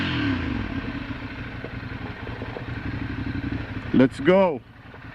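A Ducati motorcycle engine idles with a steady low rumble close by, under a man's speech, before a brief louder burst near the end and a fade-out.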